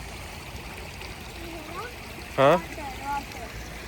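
A small mountain stream on a monsoon hill trek at Palaspe Nandgaon flows with a constant soft rush in the background while a person briefly speaks and makes a short exclamation over it.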